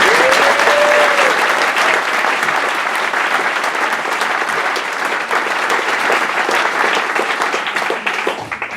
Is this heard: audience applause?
yes